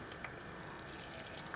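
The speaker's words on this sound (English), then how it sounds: "then she was washing her plate" Water running from the tap of a children's play wash-up sink while a plate is washed, a faint, steady hiss of flowing water with a few small splashes.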